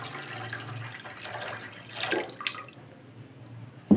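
About 1.5 litres of water is poured into a cooking pot holding chicken for corn soup, a steady splashing gush that swells midway, then trails off into drips and a final clunk.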